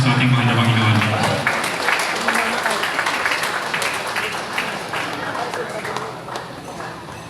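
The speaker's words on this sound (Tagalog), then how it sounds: "Palakpak sa ating mahal na Panginoon" Church congregation applause rises as a broad, steady wash of many hands clapping, loud at first and slowly easing off; a brief voice over music is heard at the very start.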